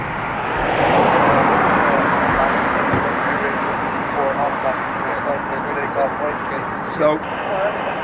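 A Bombardier Global Express jet departing Dublin Airport bound for Newark, its loud broad engine roar sustained and close, with brief clicks and radio chatter over it.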